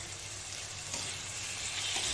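Fried fish stirred through potatoes in a pan, giving a continuous moderate sizzle with rustling, scraping stirs that rise slightly in intensity, with no one speaking.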